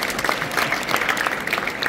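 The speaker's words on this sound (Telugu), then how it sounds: "మొదలు ఈ అమ్మాయి కోసం చప్పట్లు కొట్టండి గట్టిగా." A room full of students claps loudly for a girl at a youth gathering in Tandur. The clapping is dense and energetic and stays close and continuous from start to finish.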